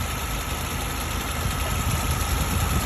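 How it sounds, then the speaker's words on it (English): A car's engine cooling fan runs steadily with the engine idling while the air-conditioning system is being filled; a constant, dense whir and hum with a low rumble, close and unbroken, with no talk. "You see the fan is running for the engine."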